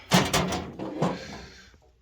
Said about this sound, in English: And we got that panel door back on.